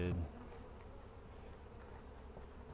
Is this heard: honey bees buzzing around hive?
yes